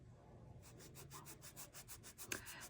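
Filing hardened gel nail glue on a fingernail, a quiet rapid series of rhythmic scratchy rubbing strokes, close and faint, with no talk.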